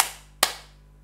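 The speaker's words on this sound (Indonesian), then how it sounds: "aku tepuk tangan dulu lah" Two sharp hand claps, the first at the very start and a second louder one shortly after, each ringing out briefly over a low steady hum, no voices.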